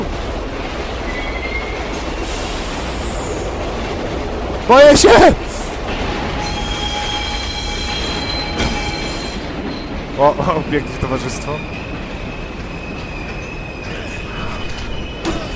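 A speeding train in the video game Condemned: Criminal Origins rumbles steadily while its wheels give off sharp, high metallic squeals. The squeals come in brief bursts. Someone talks excitedly over the noise.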